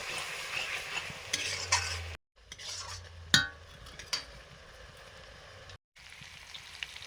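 Spices with turmeric and chilli fry in a pan for a Bengali meat curry, a quiet sizzle with spoon scrapes and clinks at uneven moments and two short silent gaps, heard close without talk.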